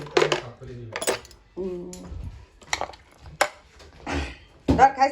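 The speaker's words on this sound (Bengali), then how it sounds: "আর আমি এখান থেকে চামচ নিয়ে নিই।" A spoon clinks against a plate while mixing spiced chanachur, a puffed-rice snack, producing several sharp close metallic taps spaced across the moment, with people talking between them.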